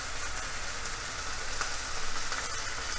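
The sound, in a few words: cherry tomatoes frying on maximum heat in a pan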